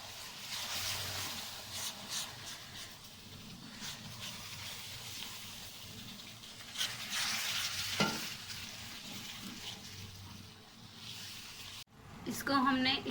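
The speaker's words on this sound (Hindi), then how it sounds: "अब इसमें दूध डालेंगे और साथ साथ चम्मच हिलाते रहेंगे" A spoon stirs besan halwa in a pan over a medium-low flame after milk is poured in, giving a steady scraping and bubbling sizzle that runs throughout, with a brief clatter near the end.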